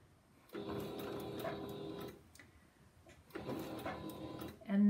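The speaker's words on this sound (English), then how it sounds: "We're going to put it under the presser foot and just sew a couple of stitches" A sewing machine runs in two short bursts of a few stitches each, flat stitching near a fold to start a narrow rolled hem, with a quiet pause between bursts.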